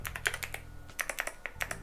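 Quick bursts of typing on a tactile mechanical keyboard, each keystroke a crisp, close clack in an uneven rhythm, with a brief pause midway and no talking.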